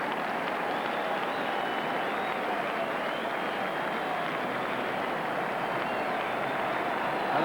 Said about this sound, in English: And the crowd really rising to Supermac